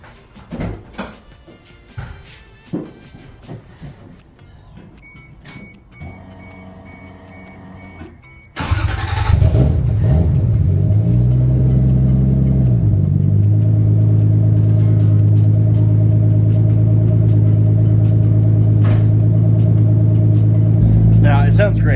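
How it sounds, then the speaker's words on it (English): A car engine with a straight-pipe exhaust fires up partway through after scattered clatter and a beeping tone, then settles into a loud, steady, rumbling idle up close that runs to the end. "just to idle, it's obviously a little bit louder than a real muffler, an actual muffler"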